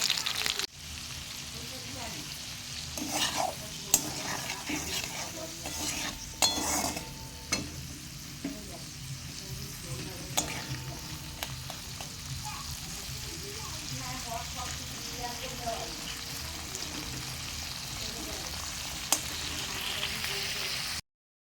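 Dinner fries in a pan at home, a soft sizzle under intermittent scrapes and clinks of stirring, fairly close and quiet, with brief voices now and then.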